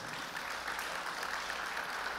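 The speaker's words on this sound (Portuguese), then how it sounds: "Aplauda Jesus, meu irmão e minha irmã." A church congregation claps together, a steady wash of many hands applauding at even loudness for a couple of seconds, with no voices over it.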